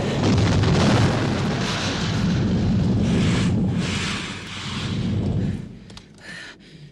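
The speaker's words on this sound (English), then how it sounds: "The explosions initially took over the soundstage" Explosions in a scene from the Aliens film, a loud rolling roar of booms and blasts that fills the sound, then drops away into quieter crackles near the end.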